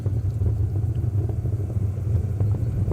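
SpaceX Falcon 9 rocket's nine Merlin engines during ascent past max Q on the CRS-12 launch to the ISS, a steady, loud, deep roar that rumbles continuously without break, heard from far away with no voices over it.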